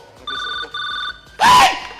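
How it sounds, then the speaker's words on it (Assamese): Two short electronic phone rings in quick succession, clear and close, followed by a brief loud burst of noise. "বিপদ ঘণ্টা বাজিছে মোৰ ল'ৰাই মোলৈ ফোন কৰিছে"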